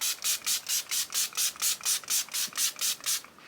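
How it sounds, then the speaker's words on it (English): A rapid, evenly spaced series of about a dozen short hissing spritzes from a Revolution Hydrate and Fix makeup setting spray pump, close and fairly loud, with no talking. "right now I'm just gonna go ahead and spray myself with the Revolution Hydrate and Fix"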